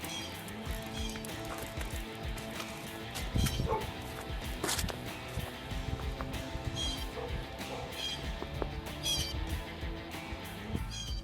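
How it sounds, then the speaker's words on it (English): During a deep-snow winter storm, a dog barks in a few scattered bursts at moderate distance, mixed with background noise and occasional talking. "Stop barking."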